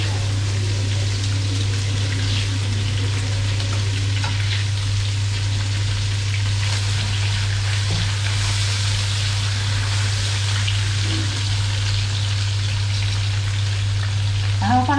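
Pork belly fries in a pan of plentiful oil, giving a loud, continuous sizzle and crackle close up, with a steady low hum underneath throughout.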